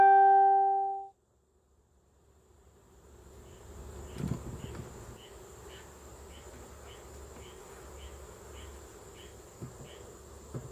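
Angry honeybees swarming around an opened hive, a dense close drone of buzzing wings that thickens after a brief tone at the start and carries on steadily with individual bees passing near.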